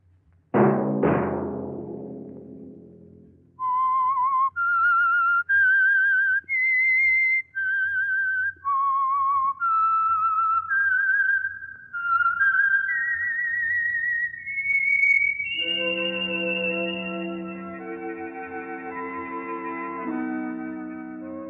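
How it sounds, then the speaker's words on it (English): A signal whistle for The Whistler radio mystery program: a loud, echoing chime-like hit gives way to a sequence of clear, sustained whistled notes in a rising and falling melody, then a fuller orchestral chord holds underneath. "Let that whistle be your signal for the Signal Oil program, The Whistler, each Sunday night at the same time."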